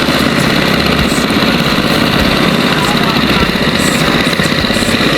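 A motor drones steadily and loudly at a tilapia fish pond during a harvest. The rough, unbroken rumble fills the whole stretch without a pause.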